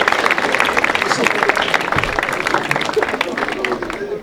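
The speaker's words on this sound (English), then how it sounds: "I think Stephanie and Jessica deserve a big round of applause for that" An audience at a hypnotist's stage show in a college setting breaks into sustained, dense applause for two volunteers, steady clapping filling the room for several seconds with scattered crowd noise mixed in.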